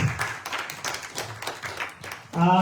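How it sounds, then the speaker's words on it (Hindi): Scattered hand claps and applause at a radio talent show, under a spoken voice, followed by a short burst of music at the very end. "एक बार जोरदार तालियां हो जाए प्लीज"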